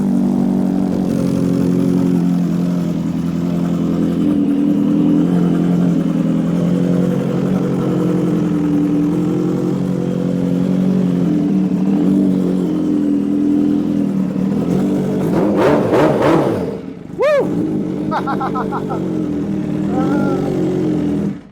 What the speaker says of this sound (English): Don't want to rev it much higher than that indoors. It will make your ears bleed.